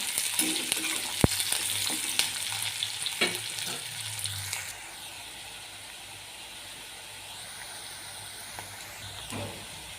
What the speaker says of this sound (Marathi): कांदाही टाकून घेऊया छान परतून घेऊया